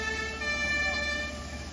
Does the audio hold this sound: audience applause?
no